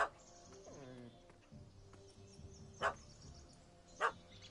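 Dog barking in The Witcher 3 game, a few short barks mixed with game ambience and faint voices, with two sharper sounds later, moderately quiet overall.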